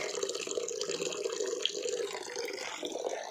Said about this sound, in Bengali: এখানে মা মাংস ধুচ্ছে